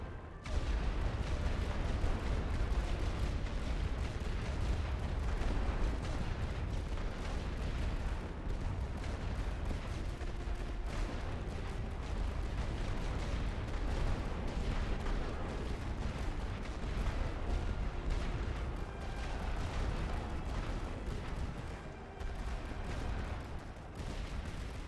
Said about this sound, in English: Koordinaten für Feuerwalze prüfen! Wir haben unsere Ziele für Feuerbefehle!